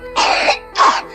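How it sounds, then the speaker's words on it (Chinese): Two wet, phlegm-laden coughs from a person with a likely respiratory infection, loud and close, each a rough burst of about half a second with a short pause between. "这种明显带痰的呀，有可能是呼吸道感染"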